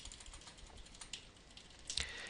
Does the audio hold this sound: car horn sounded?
no